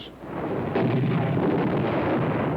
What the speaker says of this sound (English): with artillery, and machine guns, and mortars